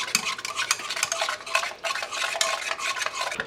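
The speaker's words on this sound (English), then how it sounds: "We're gonna stir in our 1/2 cup of brown sugar." Half a cup of brown sugar is stirred into mashed strawberries for a sourdough discard strawberry roll filling, giving close, continuous wet scraping and squishing strokes in an uneven rhythm, with no talking.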